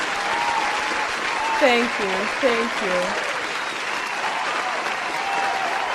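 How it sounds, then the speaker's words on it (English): A crowd applauds a talent display during a streaming anniversary awards show, giving steady, dense clapping throughout while a voice speaks briefly over it. "Let's give that lovely display of talent a round of applause, folks."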